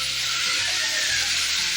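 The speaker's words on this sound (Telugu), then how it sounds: "టమాటాలు వేసుకొని ఫ్రై చేసుకున్నాము" Tomatoes frying in oil in a pan for a Telugu brinjal roti chutney, a steady close sizzle with faint stirring scrapes underneath, no voices.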